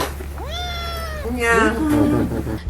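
A pet cat meows twice in a home setting, a rising drawn-out cry followed by a second wavering meow, close and clear over a steady low background hum.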